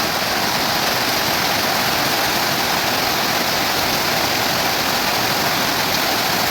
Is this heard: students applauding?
no